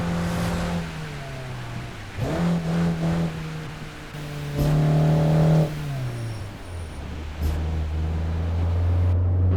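A Mazda MX-5 engine revs and shifts on a rain-soaked road in Japanese Drift Master, its tone rising and falling through several loud, close pulls with gear changes, no talking over it.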